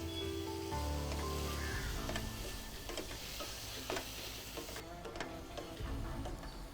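Tomato and ground paste are sautéed together in a pan, with soft, faint stirring scrapes, light ticking and a low sizzle running continuously.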